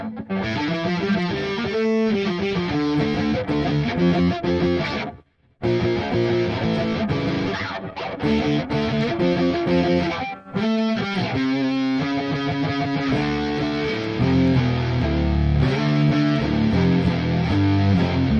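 Electric guitar with heavy distortion plays a chugging, driven riff with sustained notes, loud and up close, briefly cutting out twice before continuing.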